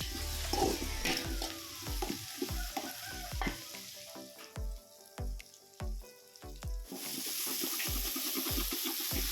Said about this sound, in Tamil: பட்டை கிராம்பு சோம்பு கசகசா ஆட் பண்ணி வணக்கி விட்டுக்கலாம்